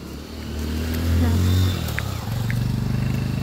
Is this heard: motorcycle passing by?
yes